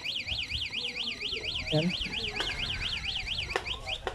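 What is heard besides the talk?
EURO FLASH/VPERMAN 150 car alarm system being tested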